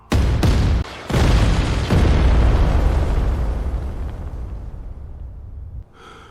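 A barrage of cannon fire from a 3D sci-fi animation: several loud booming blasts in quick succession, then a long rolling explosion that slowly fades before a brief new burst at the end.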